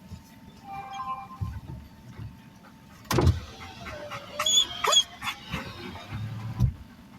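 A car's electric power window motor whirs as the window rolls during a storm chase, set against low rumbling and a dog's faint whimpers and yips, with a sharp thump partway through.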